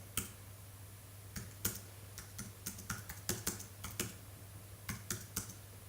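Keys on a computer keyboard are tapped in soft, irregular clusters of clicks over a steady low electrical hum, heard faintly and up close with no one speaking.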